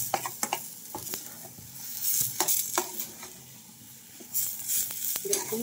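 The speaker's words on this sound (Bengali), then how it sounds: "ধনে পাতাগুলো দিয়ে আবার একটা নাড়া দিয়ে দিব।" Curry gets stirred in a pan after coriander leaves go in: a spoon scrapes and clinks against metal in irregular strokes over a soft, continuous sizzle, close and fairly quiet.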